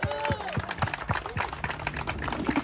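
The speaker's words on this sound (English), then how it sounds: "Round of applause for everybody who's been here from day one" Protest crowd of truckers in Washington DC breaking into applause, a brisk patter of clapping and scattered cheers close by, mixed with voices throughout.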